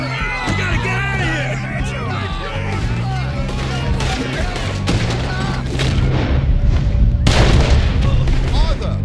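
Loud gunshots and heavy booms ring out during a chaotic shootout in Red Dead Redemption 2, set in the city of Saint Denis, mixed under urgent shouted dialogue from characters.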